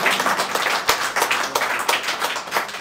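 An audience at an alumni association appreciation event in Canada claps together in a brief burst of applause, with individual hand claps distinct within the steady patter.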